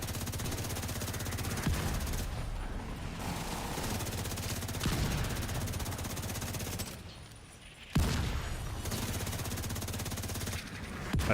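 Mortar fire in a video game, dense rapid thuds and crackling blasts in continuous bursts, broken by a few brief pauses before heavy fire resumes, loud and close without talk.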